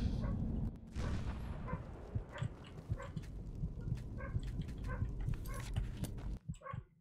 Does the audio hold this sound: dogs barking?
yes